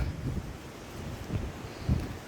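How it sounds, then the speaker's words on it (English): Gusty outdoor wind buffets the microphone in low rumbling bursts, rising and falling across the clip with no voices. "It's windy"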